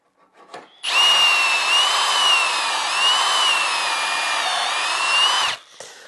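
A power drill whines steadily into wood for a wooden door for several seconds, pitch wavering slightly under load, then stops abruptly; no voices.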